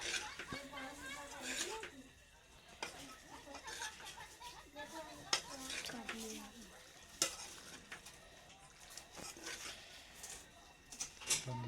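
Pasta is stirred in a pan with soft scraping and faint sizzling, a steady low clatter with occasional sharp clinks, heard under a person talking.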